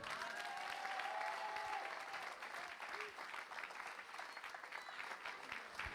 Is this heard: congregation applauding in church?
yes